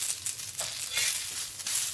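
Chopped onion sautéing in oil in a pan for a hotel-style chicken curry, a steady bright sizzle with faint scraping, close and continuous with no talk.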